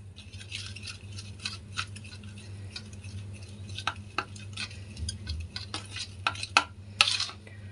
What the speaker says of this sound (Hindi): इसे अच्छे से आपको मिक्स कर देना है ऑयल के साथ